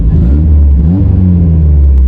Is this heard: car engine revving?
yes